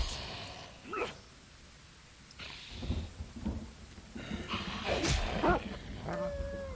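A dog in the video game Pathfinder: Wrath of the Righteous whimpers and yelps in short pained cries amid combat noise and game effects, with bursts of sound spread across the passage.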